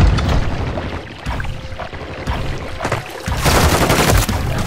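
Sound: gunfire in Call of Duty video game

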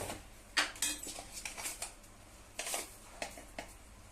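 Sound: stirring tomato sauce with salt in a pan for pasta

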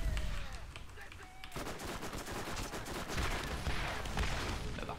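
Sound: gunfire in the video game Borderlands

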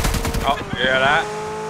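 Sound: DP machine gun firing in PUBG video game

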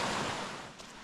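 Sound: small waterfall on a mountain stream

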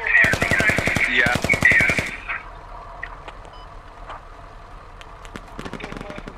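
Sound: gunfire in the video game Squad

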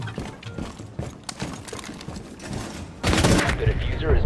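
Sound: shotgun fire in video game Rainbow Six Siege

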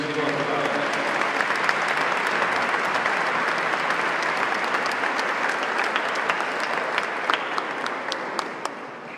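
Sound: applause

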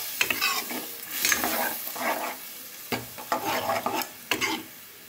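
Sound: water added to frying cauliflower in a pan

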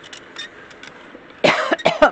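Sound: coughing

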